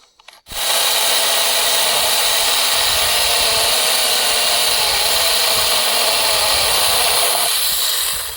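Portable chainsaw pole saw running steadily at high speed while cutting, a loud continuous buzzing drone that starts abruptly after a brief quiet moment and holds for several seconds.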